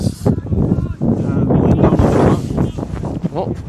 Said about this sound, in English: a gust of breeze coming across us here